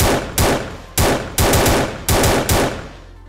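Burst-mode gunfire from a Unity FPS shooter video game: five sharp, loud synthetic shots spaced roughly half a second apart, each with a short decaying tail, no voices.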